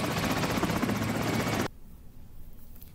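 A helicopter in a scene from The Sopranos gives a loud, dense rotor roar with a rapid pulsing chop that cuts off abruptly partway through, leaving only faint background hiss.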